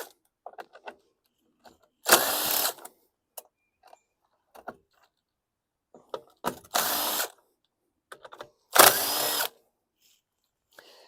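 A 5/16-inch (8 mm) socket driver backs out the screws holding the recoil on a junk Bolens or Troy-Bilt lawn mower engine in three short whirring bursts, separated by faint clicks and quiet handling.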